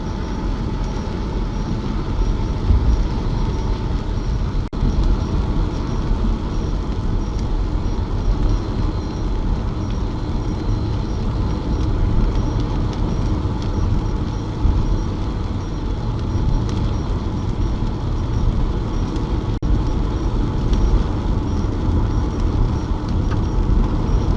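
A heavy Union Pacific freight train climbing Sherman Hill westbound from Cheyenne rumbles steadily with a deep, continuous low roar and mechanical grinding, holding constant loudness throughout without any voices.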